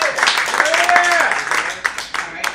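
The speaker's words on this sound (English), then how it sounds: "So give yourselves a round of applause." A comedy club audience claps in scattered, uneven bursts, with distinct individual claps standing out toward the end, while voices are heard talking and calling out over it.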